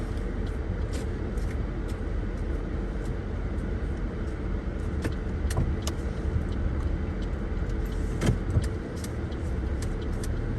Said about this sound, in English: I'm driving from Palmyra, Western Australia to Leaning